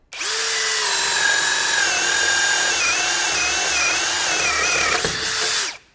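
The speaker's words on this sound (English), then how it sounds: "there was no real straining on the drill as I was pressing that through the material" A Ryobi cordless drill with a paddle bit spins up and runs at a steady, high-pitched whine for several seconds without straining while boring into wood, then winds down.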